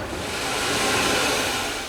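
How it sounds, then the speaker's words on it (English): A steam train pulling into a heritage railway station at Pickering, Yorkshire, a steady loud broadband hiss and rumble that swells slightly and holds for a couple of seconds with no voices. "The late train pulls into Pickering on Peter's last official day in charge"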